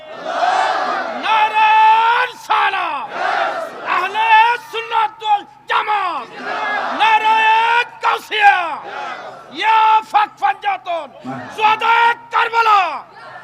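A large crowd at a Bengali religious sermon about the Battle of Badr roars the takbir chant in rhythmic, repeated bursts. Loud massed voices rise and fall in a call-and-response pattern, close and energetic.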